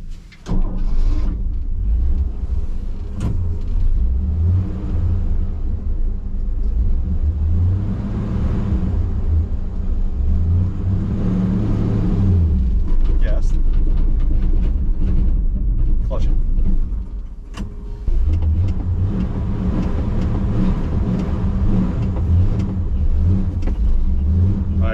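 A 1966 Chevrolet C10 pickup's engine revs and rumbles as it accelerates through the gears while driving, a loud cabin drone that rises and falls with a brief dip, under conversation.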